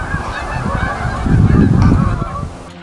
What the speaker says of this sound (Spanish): Los famosos Canada Goose,